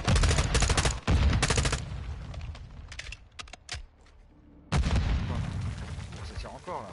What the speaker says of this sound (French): Ça tire encore là.